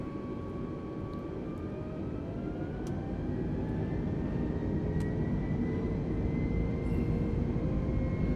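An Airbus A320neo rolls down the runway at full TOGA takeoff power, its engines a loud sustained roar with tones climbing steadily and rumble building toward rotation.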